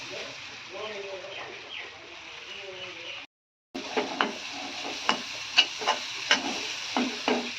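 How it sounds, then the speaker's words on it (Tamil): Grated coconut roasted in ghee in a pan, stirred with a spoon: a voice talks at first, then a quiet sizzle carries sharp scraping knocks at an irregular pace. "தேங்காய் வந்து நெய்யில் வந்து வறுத்து எடுத்துக்கலாம்"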